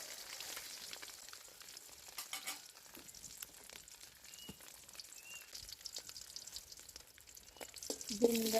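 An egg fries in a hot pan with a steady, fine sizzle and crackle from start to finish, rising briefly near the end, with no talk over it.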